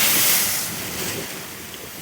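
An ocean wave at high tide rushes up onto the shore in a close, loud wash of surf that recedes into a softer hiss, with wind buffeting the microphone.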